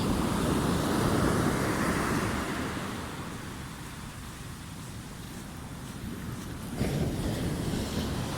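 Water surges and rushes against a raised embankment, a broad continuous roar with wind buffeting the microphone, loud at first, easing in the middle, then swelling again near the end, with no talking.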